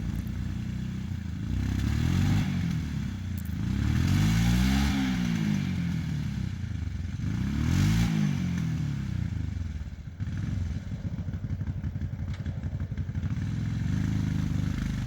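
A Kawasaki Brute Force 750 ATV engine runs rough after carburetor work, loud and close, surging and revving in uneven waves with popping and clattering, steady throughout with no talking.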